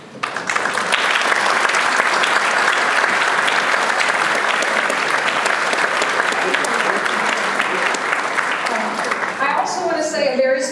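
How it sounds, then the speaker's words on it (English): Loud, sustained applause from a large Rotary Club of Atlanta luncheon crowd welcoming guests, a thick wash of clapping that runs evenly for about ten seconds before a voice begins speaking as it tails off. "if any guests could please stand and remain standing so that we can applaud you and welcome you to Rotary"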